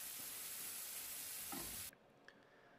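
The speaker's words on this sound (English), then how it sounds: "we're just going to keep cooking this down until it starts to get nice and crispy, just like carnitas are supposed to be" Pork shoulder with lime juice sizzles steadily in a pan as it cooks down toward crispy carnitas, a loud even hiss with a brief stir before it cuts off abruptly, leaving near quiet.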